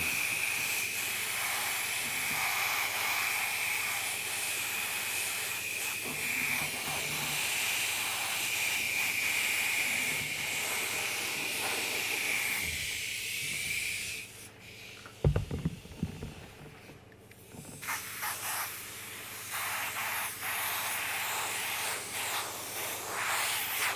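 A spray can hisses in long continuous bursts while clear green paint is sprayed onto a custom model piece outdoors, close and steady, with a brief pause and a few knocks before spraying resumes.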